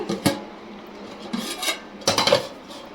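A metal cooking pot clanks and scrapes as it is set onto a stove, three short bursts of clatter over a quiet kitchen background.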